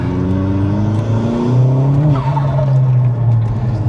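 A Vauxhall Astra VXR with a forged, remapped engine revs hard and climbs in pitch as it accelerates, loud and close, with a brief tire chirp midway as the tires grip.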